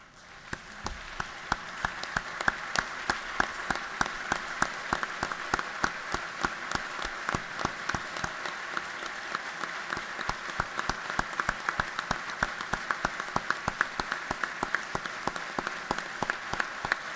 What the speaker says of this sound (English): I hope you will join me in applauding the bravery of those that are with us in the gallery today.